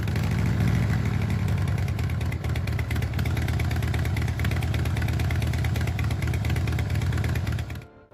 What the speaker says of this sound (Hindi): ये हार्ले का पेटेंटेड एग्जॉस्ट साउंड भी है।